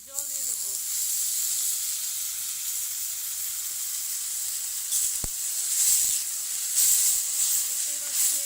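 A small splash of water poured into a hot pan of spices, giving a steady, loud hiss of steam that carries on throughout with brief crackles.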